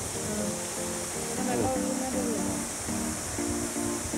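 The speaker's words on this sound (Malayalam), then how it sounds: "സീക്രട്ട് വെള്ളച്ചാട്ടമാണ്, സീക്രട്ട് വെള്ളച്ചാട്ടം." A small hidden waterfall pours in a steady broadband rush, with a voice talking and humming tones running over the continuous water noise.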